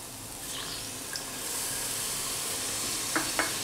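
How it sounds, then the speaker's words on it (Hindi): Water poured into a pan of spices frying for masala parwal sabzi, giving a steady, loud sizzling hiss with a few sharp spatters near the end, with no talking. "और अब हम इसमें डालेंगे थोड़ा सा पानी"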